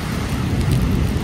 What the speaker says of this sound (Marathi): जबरदस्त पाऊस पडतो